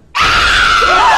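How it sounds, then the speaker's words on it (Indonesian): A bride at a wedding hall lets out one loud, sustained, hysterical scream that starts suddenly after a brief quiet moment and holds at high intensity to the end. "Sontak mempelai perempuan teriak histeris."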